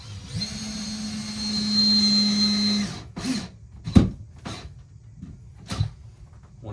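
A power drill drives a screw into sheetrock with a steady whirring buzz for about three seconds, followed by several sharp knocks and handling clunks against the wall.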